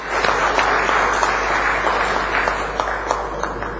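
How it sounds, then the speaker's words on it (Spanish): Sustained audience applause at a Spanish-language gathering, dense steady clapping from a crowd that holds at full strength from start to end with no talk on top. "para quien también pido un fuerte aplauso"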